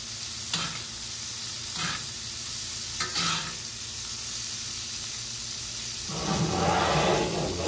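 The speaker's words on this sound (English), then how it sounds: "then we're just basting it over so it's gonna get nice and flavorful" Steak sizzles in a pan of hot butter with thyme as it is basted, a steady close frying hiss broken by a few spoon scrapes and spatters, swelling louder near the end.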